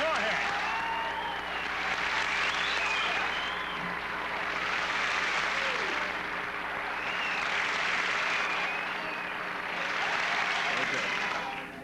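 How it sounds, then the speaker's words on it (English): Studio audience applause from a live television talk show crowd, a broad steady wash of clapping that swells and eases in waves for about twelve seconds, loud and continuous with no voices over it. "So why don't you give yourselves a hand?"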